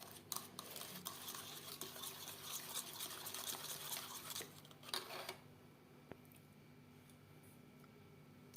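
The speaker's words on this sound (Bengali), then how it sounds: "অল্প অল্প করে মিশিয়ে থাকবো আর নাড়তে থাকবো।" Flour being stirred into fruit cake batter sweetened with nalen gur, a soft wet scraping and churning for about five seconds that then fades to a quiet room hum, close and faint, with no voices.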